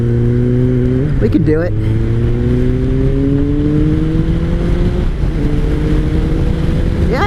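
A warmed-up 2003 Kawasaki ZR7S motorcycle engine hums steadily while riding, its pitch rising slowly then dropping at gear shifts, loud and close under wind, with a brief spoken phrase.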